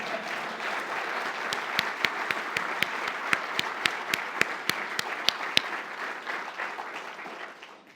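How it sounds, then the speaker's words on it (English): An audience at a book talk and signing gives a round of applause, steady close clapping from many hands with a few sharp individual claps standing out, fading at the end. "I think that deserves a round of applause."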